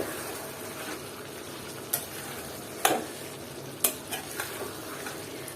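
Mutton kosa being stirred in a cooking pan: a constant sizzle with a few sharp scrapes and clinks of the spoon against the pan, close and without talk.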